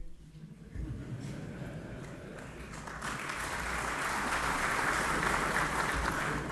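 Applause in a parliament chamber starts softly, jumps up within the first second and swells steadily into a broad, sustained ovation from a large audience.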